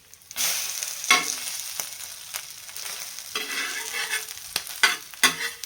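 Egg-dipped bread sizzles steadily in a hot pan after being flipped, a continuous close frying crackle broken by several sharp spatula scrapes and taps, with no talking.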